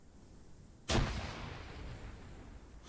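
A single fragmentation grenade bursts on a training range: one sharp blast that stays fairly distant and muffled, followed by a rumbling decay that lingers for about two seconds over quiet outdoor background.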